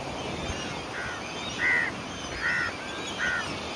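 Crows at a feeding spot where an elderly man has fed dogs and birds for decades, giving three or four short harsh caws at a moderate distance over a steady outdoor background hiss.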